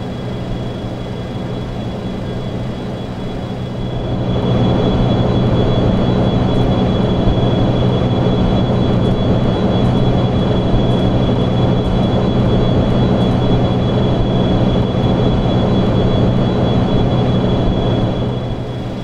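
A FlyJSim Boeing 727 jet in X-Plane 11 climbs with a loud, steady engine roar and a constant whine, growing louder after a few seconds and holding evenly throughout.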